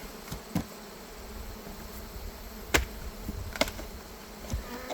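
Honeybees buzz softly in the background as they are cleared from hive boxes, with a few louder insects zipping past close by, brief buzzes standing out against a quiet outdoor hum.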